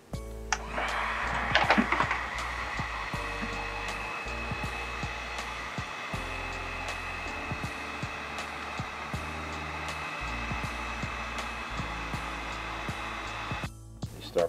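A heat gun warms vinyl on a textured lacrosse head, a steady loud whooshing blower hum that runs continuously for the whole stretch with a brief clatter near the start.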